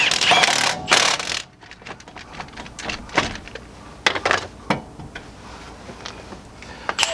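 A hand ratchet clicks in quick bursts while bolts are retightened on a 2008–2012 Chevrolet Silverado 1500 front brake, close up, with metallic taps and pauses between runs and no talking.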